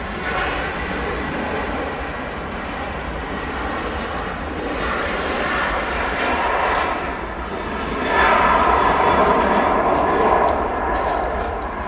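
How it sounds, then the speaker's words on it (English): A Ryanair Boeing 737 takes off from runway 05 left at Manchester Airport, its jet engines a sustained distant roar that swells louder toward the end, with voices nearby at times. "There goes our Ryanair. Ryanair 737 rotating out of Manchester."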